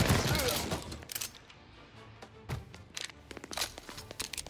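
Gunshots from Mafia Definitive Edition during a bank robbery mission, several sharp, separated cracks and thuds at moderate distance, fairly quiet, with scattered footsteps between shots.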